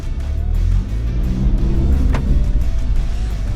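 A Kia Tasman pickup driving off-road in 4 auto, its engine a loud steady low drone up close with a brief mechanical tick partway through and no voices.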